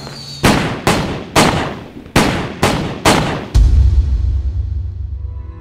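Seven loud, sharp bangs of firecrackers or fireworks in an uneven sequence, each echoing briefly, followed by a deep rumbling boom that lingers.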